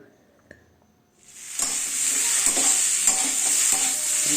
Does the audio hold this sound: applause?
no